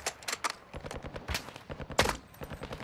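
Call of Duty gunfire crackles in a rapid run of sharp, loud bursts, some spaced and some clustered, with a heavier shot near the end and no talking.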